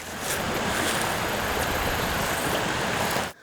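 Spruce Creek flows in a loud, steady, broadband rush of water that runs without a break, then drops off abruptly at the end.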